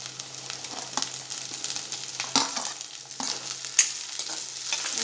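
Onions, cabbage, carrot and cauliflower sauté in a pan with a soft, constant sizzle, broken by the scrape and clatter of a spoon stirring at irregular intervals, heard close and without talk.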